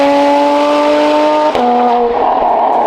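Porsche 981 Cayman S fitted with a loud Ninemeister titanium exhaust, a close, loud engine note holding a steady pitch before shifting abruptly and settling into a rougher, lower drone.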